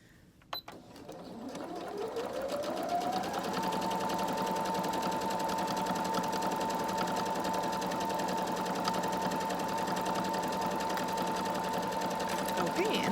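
A home sewing machine stitches a bra seam, its motor ramping up to a steady, loud, close hum with rapid needle ticking that runs unbroken for over ten seconds.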